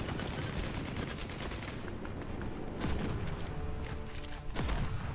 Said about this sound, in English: the trick to firing is you have to be able to actually hit the enemy